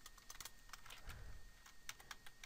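Rapid clicking of typing on a computer keyboard while entering a name into an Excel spreadsheet, a quick irregular patter of keystrokes close up with short pauses, no talking.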